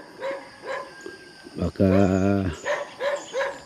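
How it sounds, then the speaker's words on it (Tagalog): Dogs bark repeatedly around a person outdoors, several sharp close barks in quick bursts, with one louder burst in the middle, while someone talks over them. "pinalibutan na ako ng aso guys"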